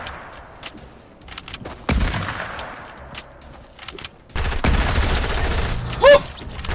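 Rapid bursts of video game gunfire from Fortnite crackle in clusters, with sharp single shots between louder sustained volleys, ending with a brief whooshing tone.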